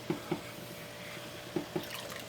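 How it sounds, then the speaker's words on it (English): Rice poured into a pot of boiling water on a stove gives a few soft splashy drops and patters in two brief pairs, quiet and close against a steady low hiss. "Okay, now I'm gonna add my rice"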